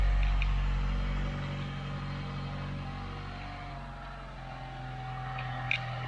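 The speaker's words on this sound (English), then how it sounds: "At idle, it almost sounds stock. Just a little extra rumbly sound." Supercharged Mazda 6 engine idling steadily, a smooth, low rumble with constant tone, close by and alone for the whole stretch apart from one brief click near the end.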